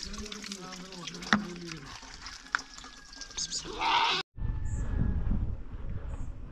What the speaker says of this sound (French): J'ai rempli mes 2 bouteilles d'eau.